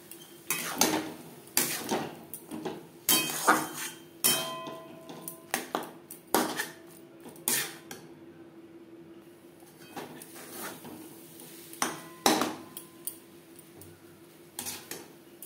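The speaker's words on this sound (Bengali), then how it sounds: "অল্প অল্প করে জল অ্যাড করে সুজি নাড়াচাড়া করে দেব।" A spoon scrapes and taps against a pan as semolina is stirred on a low-to-medium gas flame, making repeated close metallic clinks in an uneven rhythm with a quieter stretch midway; no voices.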